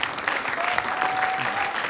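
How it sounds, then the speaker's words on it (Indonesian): Dense applause from an audience fills the moment, a steady wash of clapping with no pauses. "Oke, baik tepuk tangan"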